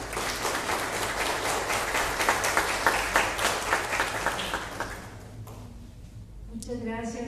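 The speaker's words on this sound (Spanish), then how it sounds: "También la recibimos, por favor, con un fuerte aplauso." An audience at a Costa Rican project-closing ceremony applauds loudly and steadily for about five seconds, then the clapping fades out into a quiet room.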